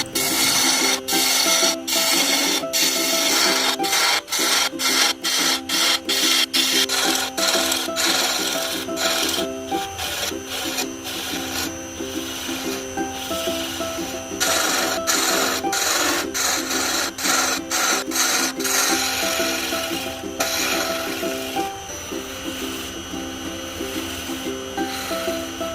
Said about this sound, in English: Next, we set up the coring jig on our machine. We will start the hollowing process.